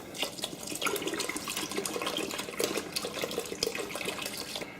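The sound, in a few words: pouring clean water into mead fermenting container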